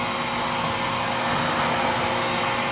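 A RevAir suction hair dryer roars steadily and close up while drying hair at the roots, a constant loud airy whoosh like a vacuum cleaner with no variation.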